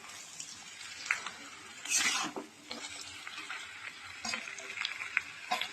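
Fried potatoes with fried fish heads and bones, bhetki and bhola, stirred in a pan: soft scraping spatula strokes over a low sizzle, with one louder clatter near the middle.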